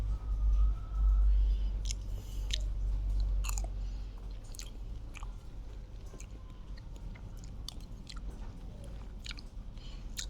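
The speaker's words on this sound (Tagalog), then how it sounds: "Siyempre, kakain ako ng prutas." Someone eats fruit, with close, crisp bites and wet crunchy chewing repeating in an irregular rhythm over a low background rumble.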